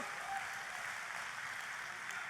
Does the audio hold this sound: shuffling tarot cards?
no